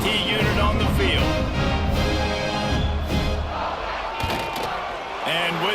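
Football stadium crowd at a Bowling Green vs. Oregon State game, a broad roar of cheering and shouting that stays steady and loud under a commentator's voice.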